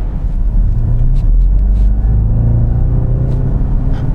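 Audi RS 6 Avant engine heard from inside while driving, a loud, steady low rumble with a deep droning tone that holds throughout.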